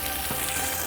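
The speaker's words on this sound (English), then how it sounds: "fry the okra now. Keep moving it." Okra frying and sizzling in a pan for Sindhi kadhi, a steady close hiss of hot oil with faint stirring and no voices.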